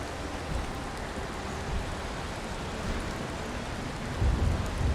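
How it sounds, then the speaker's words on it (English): Steady heavy rain with a low rumble of thunder in the Valheim video game world, a dense continuous wash of noise that swells near the end as the thunder rolls in. "Oh, I love the rain so much."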